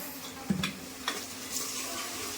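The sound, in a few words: stirring and frying ginger garlic paste in a pan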